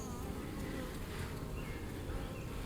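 Dense, steady buzzing of many honeybees close by during a hive inspection, frames being handled with a smoker nearby; the hum stays continuous and fairly loud the whole time, with no clear speech over it.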